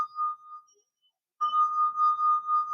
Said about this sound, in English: the vibration source, vibration number one, if you will, is the finger making and breaking on the glass